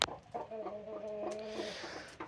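A broody hen sitting on her nest of eggs clucks in a few drawn-out, tonal calls, close and fairly soft, with quiet rustling around them and no talking.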